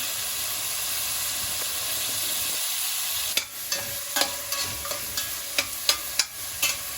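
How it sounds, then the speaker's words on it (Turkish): Meat for a Turkish white bean stew fries in a pot with a loud, steady sizzle, then a utensil stirs it, adding a run of sharp scraping clicks over the hiss. "Şimdi etlerimiz kavrulsun. Etimiz kavruldu."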